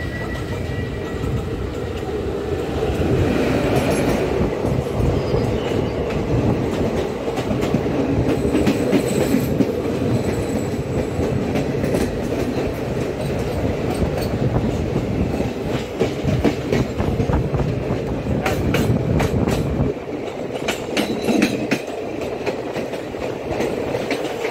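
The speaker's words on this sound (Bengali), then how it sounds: "বন্ধুরা ট্রেন একটা আসছে" A fast passenger train on the Pune to Howrah route rushes past close by, a loud continuous roar of wheels and rolling cars with rhythmic clatter and sharp clicks, easing toward the end, no voices.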